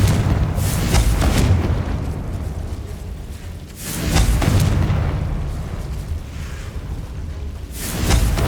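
Explosive Confringo spell blasts in the Hogwarts Legacy video game, three heavy booming bursts spaced a few seconds apart, each followed by a rolling rumble that fades, loud and without talking.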